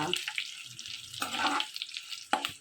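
Curry leaves and spices frying in a pan before ivy gourd is added for a stir-fry, a soft crackling sizzle broken by brief stirring scrapes and bursts, fairly quiet and close.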